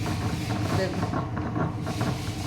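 A kitchen grinder churning cream into butter for homemade ghee, a steady dense whirring and sloshing rumble that stays constant and close throughout.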